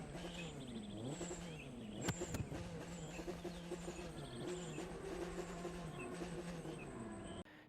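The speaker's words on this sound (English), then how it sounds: "that 5-cylinder sounds insane" Audi RS3 Sportback five-cylinder engine in The Crew 2: a quiet, steady droning engine note whose pitch climbs and drops repeatedly as the car accelerates and shifts.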